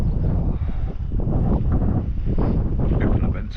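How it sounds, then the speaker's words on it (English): Wind buffets a mountain wild campsite with a steady low roar and rumble against the microphone, continuous and fairly loud throughout. "It's windy, like, but not too bad."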